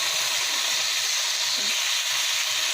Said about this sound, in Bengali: শিমগুলো প্রথমে সিদ্ধ করে নিয়েছিলাম, এবার হালকা তেলে ভেজে নিচ্ছি।